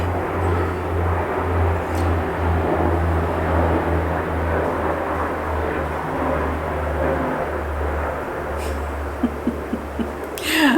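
Military jets fly over near a major East Coast Navy master jet base, a steady loud roar of engines rumbling continuously overhead throughout, with a few faint knocks near the end.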